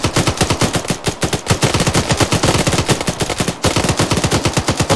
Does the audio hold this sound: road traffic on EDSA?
no